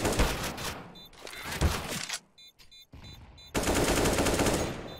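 Gunfire in a solo-queue shooter video game: loud rapid bursts of automatic fire, close and dense, broken by short pauses before a long sustained burst at the end.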